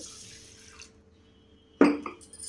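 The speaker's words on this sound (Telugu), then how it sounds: "పెసరపప్పును తీసుకొని ఇలా ఒక బౌల్లో వేసుకొని రెండుసార్లు వాటర్ పోసుకొని బాగా కడుక్కోవాలి" Moong dal being washed with water in a bowl: a near-quiet stretch, then a sudden close splash and slosh of water near the end.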